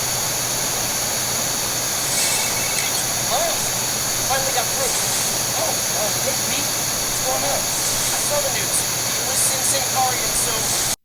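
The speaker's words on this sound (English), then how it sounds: "You will definitely hear this fan. And it didn't bother me too much, but to some people, this is an annoyance. It is a lot louder than the Steam Deck fan." A steady, loud hissing whoosh from the EasySMX D10 cooling fan clipped onto a Steam Deck, droning without a break while a person talks quietly over it.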